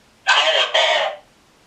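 A Saberforge Crimson lightsaber ignites in a loud, close, two-part electronic swell lasting about a second, then falls silent.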